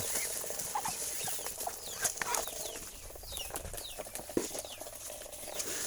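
Chickens peck and scramble over tossed feed on a farm, with quiet scratchy shuffling, faint clucks and short chirps scattered throughout at a low, steady level.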